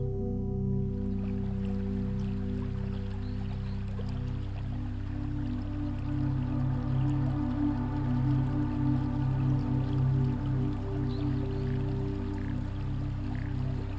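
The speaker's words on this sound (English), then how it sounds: "A wall fountain where water trickles down a stone surface into a small basin" Water from a wall fountain trickles down a stone surface into a small basin in a courtyard garden, a steady, continuous wash of sound over a low, constant hum.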